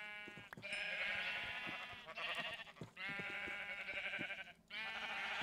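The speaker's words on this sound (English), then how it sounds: "a crap load of sheep" Many sheep in Minecraft bleat in an overlapping, near-continuous chorus of loud, nasal calls, with brief gaps between waves of bleats.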